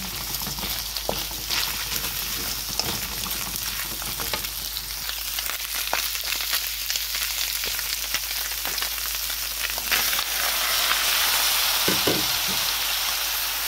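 Carrots stir-frying with noodles and chicken in a hot pan, a steady close crackling sizzle with scraping stir strokes throughout, growing a bit louder and brighter toward the end.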